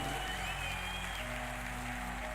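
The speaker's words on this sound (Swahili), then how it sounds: "Wacha nitupiga makofi" Audience clapping for a certificate recipient at a charity event honouring a bishop's foundation, a steady wash of applause lasting a couple of seconds over a low hum.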